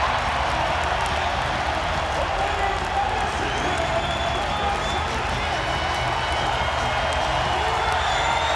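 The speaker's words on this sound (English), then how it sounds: "Listen to this crowd." A packed wrestling arena of around 16,000 fans roars in a continuous dense wash of cheering and applause, loud and sustained throughout with no break.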